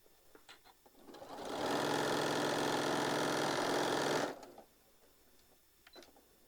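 A sewing machine stitches the side of a tote bag in one steady, loud run of rapid needle strokes lasting a few seconds, with quiet handling noises before and after.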